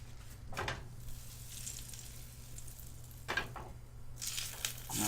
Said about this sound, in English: Now the sandwich goes on.